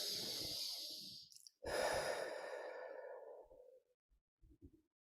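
Slow, deep breathing during a guided meditation: a long, close exhale, a brief pause, another deep breath in and out, then quiet with a few soft sounds.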